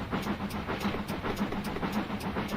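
A GWR King class steam locomotive in Train Simulator runs steadily with a low rumble and a regular rhythmic beat of exhaust chuffs, and nobody speaks over it.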